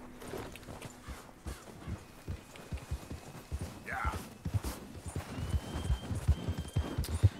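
A horse gallops in Red Dead Redemption 2, steady rhythmic hoofbeats close by and fairly quiet, building slightly louder toward the end, with a brief voice in the middle.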